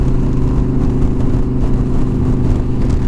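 A motorcycle cruises at highway speed, its engine holding a steady loud drone mixed with wind rush, continuous and close without letting up.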